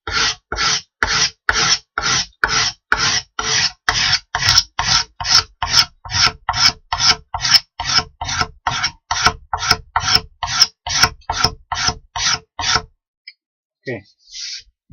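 Steel scraper drawn across a wooden kitchen cabinet door in rapid, even strokes, about two dozen rasping scrapes close by, then a short quiet stretch with a faint knock.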